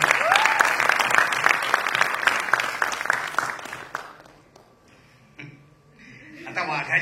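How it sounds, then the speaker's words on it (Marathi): A crowd at a movie trailer launch event claps loudly for Siddharth, the sharp dense applause lasting about four seconds before fading out, with a few voices afterward. "एकदा जोरदार टाळ्या सिद्धार्थसाठी"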